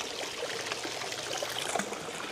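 Clear water flows steadily through a channel at an old spring bathing site, a close, constant trickling rush with light splashing detail and no voices.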